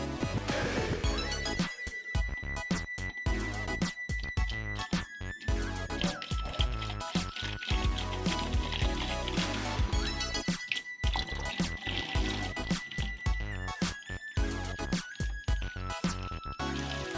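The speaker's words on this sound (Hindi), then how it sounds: "आपने इसका ढक्कन खोल लेना है और इसमें पानी से इसको भर लेना है।" Water splashes and trickles into a homemade bird water feeder as it is filled, a busy, continuous liquid sound heard close, with no talk.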